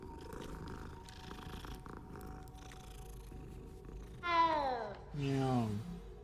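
Cat meowing in the video game Hogwarts Legacy: two clear, close meows near the end over quiet game ambience and a low hum.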